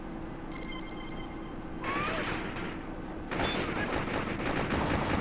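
Rapid bursts of MAC-10 submachine gun fire in the arcade shooter Operation Wolf 2: Thunderbolt, loud and continuous over game music and effects, with the firing growing denser toward the end.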